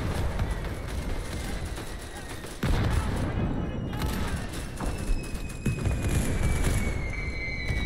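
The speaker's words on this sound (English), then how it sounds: "This artillery's nothing." Artillery and gunfire in a World War I shooter game set in Centaura, with sharp booms and crackling shots over continuous battlefield noise while a player talks over the chaos.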